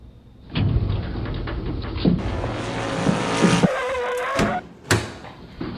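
A 1/32 scale Porsche 356 slot car chassis laps a track with a fast, buzzing motor whine that rises and shifts in pitch, broken by brief gaps and sharp bursts as it runs close by.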